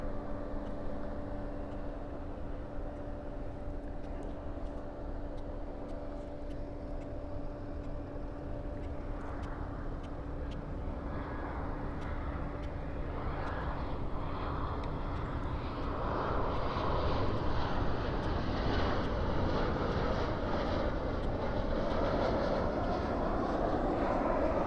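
A Boeing 737 landing at night at Dallas Fort Worth airport with spoilers deployed and thrust reversers engaged, a steady distant roar that swells louder and broader over the last several seconds.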